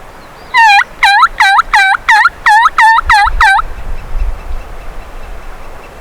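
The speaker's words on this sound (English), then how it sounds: "Yeah, he's gobbling." A wild turkey gobbles loudly and close by on a spring hunt, a rapid burst of about nine gobbling notes in quick succession, then a low rumble and quiet.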